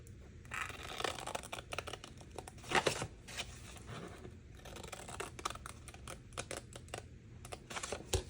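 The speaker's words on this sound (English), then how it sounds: "along the bottom, you're gonna cut along all of your score lines up to the first score line" Scissors snip along the score lines of a paper milk carton being made into a small crate, giving a steady run of close, dry cuts and crinkles with no talking.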